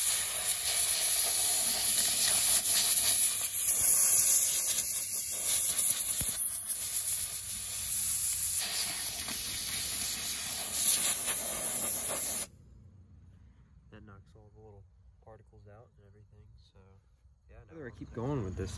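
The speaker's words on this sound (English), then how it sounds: "I'm just taking this air sprayer and cleaning it out" An air sprayer blasts compressed air into a rusty Bronco body during body work, a loud steady hiss running for about twelve seconds before cutting off, followed by quieter shop noise and a brief voice.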